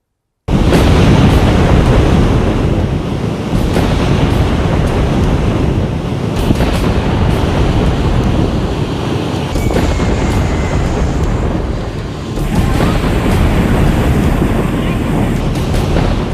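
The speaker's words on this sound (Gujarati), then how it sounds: "સૌરાષ્ટ્ર સહિતના દરિયા તોફાને ચડતા ઊંચા ઊંચા મોજા ઉછળી રહ્યા છે." Stormy monsoon sea off the Saurashtra coast of Gujarat: high waves crash and roar continuously while strong gusting wind buffets the microphone, loud and unbroken throughout.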